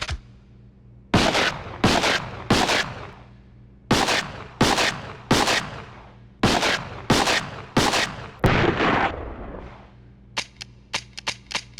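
Nail gun fired repeatedly in Resident Evil Outbreak: loud, sharp close shots in quick clusters of two to three with brief pauses, followed by a softer, quicker rattle of lighter snaps at the end, with no talking.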